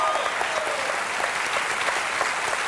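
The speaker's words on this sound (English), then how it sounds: "I've actually never seen that many people clap for a divorce attorney." An audience applauds steadily, a dense, even wash of clapping filling the whole stretch without pause.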